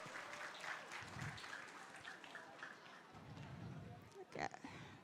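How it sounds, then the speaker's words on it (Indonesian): Audience applause at an evening public gathering in Purwokerto, a steady, fairly faint wash of clapping with voices talking over it throughout. "kasih tepuk tangannya dulu."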